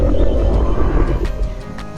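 A dinosaur call from Roblox Dinosaur Simulator's normal version rings out close and loud, a deep roaring cry that swells at the start and tapers slightly toward the end, with no talking over it.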